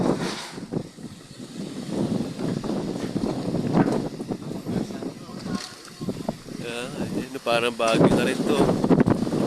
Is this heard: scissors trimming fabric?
no